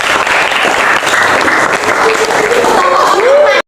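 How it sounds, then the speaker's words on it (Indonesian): A class of students claps their hands together in a classroom, a dense steady burst of applause lasting a few seconds with some voices mixed in before it stops abruptly. "Tepuk tangan semuanya."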